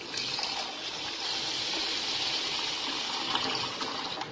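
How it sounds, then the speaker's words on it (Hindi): Water pours steadily into a bowl of washed rice set to soak, a continuous gushing, splashing stream that stays loud and close for the whole stretch, with no talk over it. "अपने राइस में पानी डाल लूंगी।"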